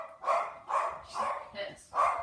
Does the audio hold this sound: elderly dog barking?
yes